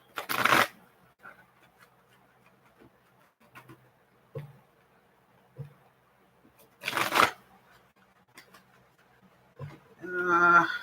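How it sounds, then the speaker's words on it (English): A deck of playing cards shuffled by hand in two distinct riffle bursts, close and crisp, with a few soft taps and shuffles between them, then a brief voice at the end. "These cards, for some reason, are hard to shuffle today."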